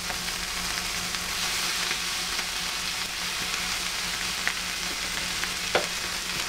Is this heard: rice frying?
yes